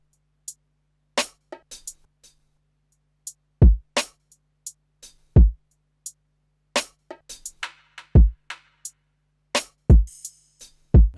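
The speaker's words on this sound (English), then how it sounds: "And then for the second half again, I just added these drums that sound like this" Drums from an FL Studio beat: booming kicks, sharp snares or claps and ticking hi-hats in a sparse, syncopated groove, punchy and dry with silence between hits.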